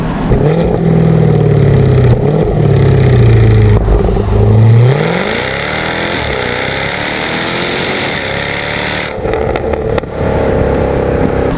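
A 2015 Jaguar F-Type R Coupe engine revs hard with rising and falling exhaust roar, then settles into a deep, rumbling idle with occasional blips.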